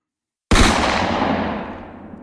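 A single loud blast from a rifle volley at a military funeral, with seven soldiers firing together, cracks suddenly after a short silence and then rolls away in a long, fading echo.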